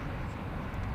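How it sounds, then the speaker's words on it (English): Drone of a C-130 Hercules turboprop flying a tight display at an airshow, heard as a continuous, fairly loud broadband engine roar over a brief moment. "Air Force's C-130 Hercules flew a typical, very tight display at the show."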